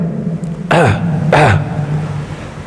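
Two firm throat clearings, evenly spaced and close, over a low steady hum.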